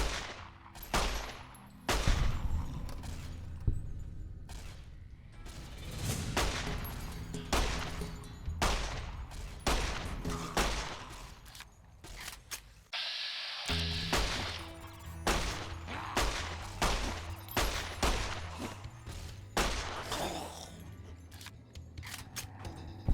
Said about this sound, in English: Eddie, who the fuck are you shooting at?